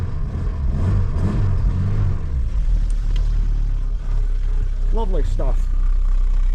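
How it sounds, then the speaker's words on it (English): Race truck prepared for Brands Hatch fires up and settles into a steady, deep rumbling idle, close by and loud, with someone talking briefly over the engine. "Right, get it fired up. Starts beautifully."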